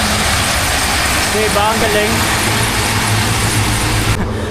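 A sugarcane harvester and a haul truck work a cane field in Australia, giving a steady loud engine drone and broadband machinery rumble that runs throughout, while a person speaks briefly over it.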